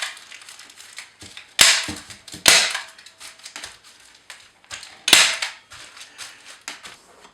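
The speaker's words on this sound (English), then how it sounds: "I'm going to staple them in position." A stapler fires several sharp snaps while fixing crumpled newspaper in place on a model railway scenic section, three loud bursts standing out among smaller rustles and clicks, close by with no talking.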